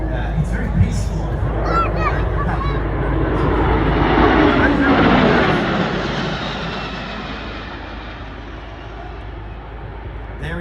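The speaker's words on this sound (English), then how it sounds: "There is your C-17A Globemaster III out of RAAF Base Ambly here today from 36." A C-17A Globemaster III military transport passes at the RAAF Richmond air show, its loud jet roar building to a peak and then fading, with crowd murmur and voices throughout.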